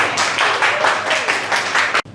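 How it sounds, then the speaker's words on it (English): An audience at a youth leadership symposium claps, a dense burst of many hands with slight swells. It stops abruptly near the end. "Let's clap it up now."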